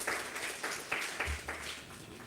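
Audience at a sustainability seminar breaks into clapping, a dense wash of hand claps with a few sharper bursts, steady and fairly close for a couple of seconds.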